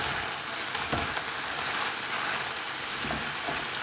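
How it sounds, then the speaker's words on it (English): Steak fajita strips sizzle in a dry pan with no oil, a dense, steady crackling hiss that stays close and constant from start to finish. "This is just Sizzling."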